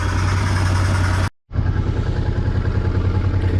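A Honda Deauville 700 motorcycle idles while warming up, with a loud, close, steady rhythmic engine throb that cuts out briefly and then returns at the same even idle.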